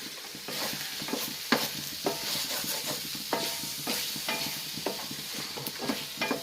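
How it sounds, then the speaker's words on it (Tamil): Mutton in a pot stirred with a wooden ladle, steady sizzling under a rhythm of repeated scraping strokes and knocks, close and moderately loud. "மரக்கரணி யூஸ் பண்ணும்போது நம்ம வந்து நல்லா கிண்டு கிண்டு கிண்டலாம்"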